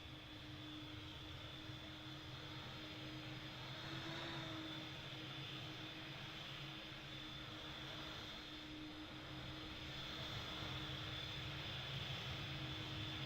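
An airplane approaching London City Airport, a steady sustained engine drone with a constant hum, holding at moderate loudness throughout with no voices.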